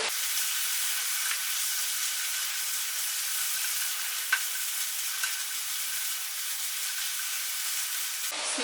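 Eggplant stir-fry seasoned with garlic powder, pepper and Italian dressing, tossed in a hot pan: a steady, loud sizzling hiss runs throughout, with faint scrapes and ticks from the mixing and no talking.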